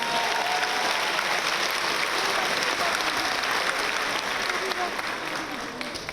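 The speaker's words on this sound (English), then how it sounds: "so let's give them a round of applause." Sustained, dense applause from a large crowd at a Roosevelt High School graduation, loud and continuous with cheering voices mixed in, tapering slightly near the end.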